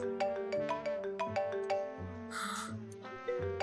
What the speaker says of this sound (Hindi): लकी की कॉल आ रही है।